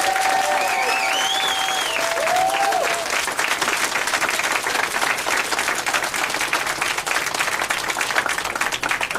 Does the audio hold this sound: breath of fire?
no